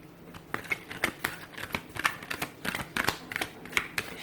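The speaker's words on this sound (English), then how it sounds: "let's give the cards a shuffle here" Tarot cards being shuffled by hand, a quick run of crisp riffling flicks and soft slaps close by, with no talk over them.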